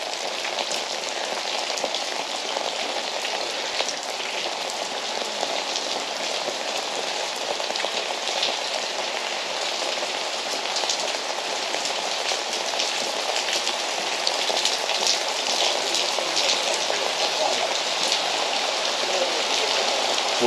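Steady heavy rain patters and splashes on surfaces nearby on a street in Gurzuf, Crimea, after a storm, a constant dense hiss with no voices.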